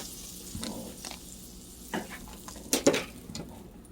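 Eggs frying in a skillet, a soft steady sizzle with a few clinks and scrapes of a spatula against the pan, fairly quiet and close.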